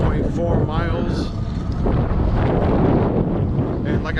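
Wind buffets an outdoor microphone in a steady rumbling roar during an electric bike ride on a LectricXP, loud and continuous throughout.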